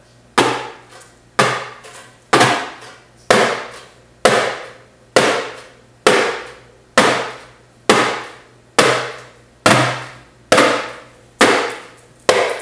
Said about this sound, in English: by grabbing the drum kind of like with all your fingertips